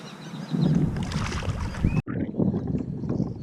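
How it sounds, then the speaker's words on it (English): Wind blowing over a lake while bass fishing from a boat: steady rushing gusts and buffeting close to the microphone, with a brief dropout midway before the blowing resumes. "So the wind started to really pick up"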